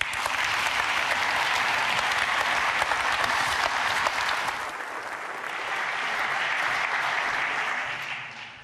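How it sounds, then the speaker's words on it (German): A large audience at a formal anniversary ceremony of the DBU (German Federal Environmental Foundation) applauds loudly and steadily to welcome a speaker, dipping briefly midway before swelling again and tapering off at the end. "Begrüßen Sie bitte mit einem ganz großen Applaus Frau Rita Schwarzelür-Sutter."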